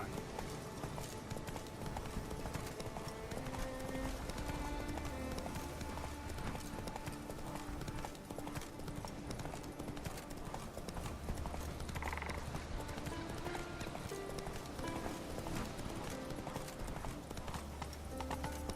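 Roach the horse gallops in The Witcher 3, with rapid rhythmic hoofbeats pounding steadily and loudly across the whole stretch, set against game ambience and music.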